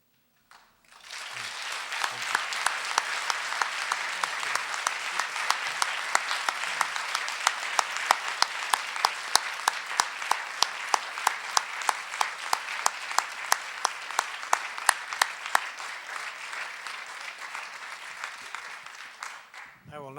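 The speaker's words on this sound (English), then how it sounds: "I will not expand upon your applause with any further comments" Sustained audience applause fills a Stanford lecture hall after a talk on U.S. foreign policy in Afghanistan and Pakistan, starting abruptly and holding as dense, even clapping before tapering at the end.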